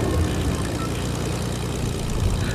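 Propeller airplane engine in a video game, a steady loud drone with a low rumbling hum throughout and no break.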